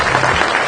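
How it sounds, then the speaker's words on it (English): An audience bursts into a short, loud round of clapping at a hall of fame induction ceremony, dense and continuous throughout the brief moment. "Let's give Louis a big round of applause"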